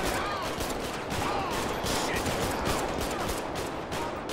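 Rapid gunfire from a GTA 5 police mod shootout, with dense overlapping shots crackling close and loud throughout, like a sustained exchange of automatic fire.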